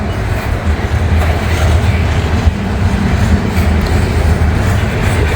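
A full grain freight train with Canadian-marked hopper cars crawls slowly past, a continuous low rumble and rolling rail noise filling the whole span at close range.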